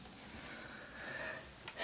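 Crickets loose in a leopard gecko tank give two short, high chirps about a second apart, faint against a quiet indoor background.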